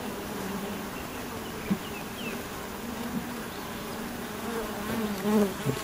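Honey bees swarm and buzz around an opened hive while frames are pulled out during the addition of a third hive box. The drone is dense, steady and close, swelling slightly toward the end.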